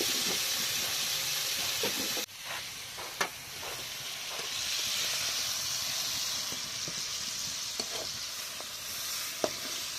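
Chicken pieces frying lightly in oil, a steady close hiss and sizzle that dips suddenly when stirred, then resumes with occasional sharp clinks of a utensil against the pan.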